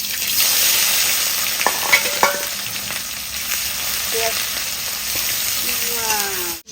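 Chopped onions sizzle loudly in hot oil, close up, with a few sharp clinks and scrapes of a spoon stirring the pan.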